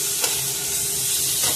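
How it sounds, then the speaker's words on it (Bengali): A bitter gourd filling with ginger garlic paste and boiled gourd pieces is sautéed in a pan, sizzling and hissing steadily up close, with soft stirring scrapes and no talking. "সব কিছুকে এবারে এর সঙ্গে ভালো করে কষিয়ে নিতে হবে"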